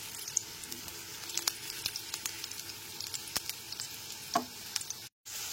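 Potato pieces frying in oil over a medium gas flame, a soft steady sizzle with scattered small pops and crackles, close but fairly quiet, cut by a brief dropout near the end.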